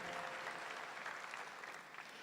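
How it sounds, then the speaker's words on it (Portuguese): A church audience claps together for a priest's tribute to the pope, a dense, even patter of many hands, moderately distant and fairly soft, holding steady and easing slightly toward the end. "Dá uma salva de palmas para ele."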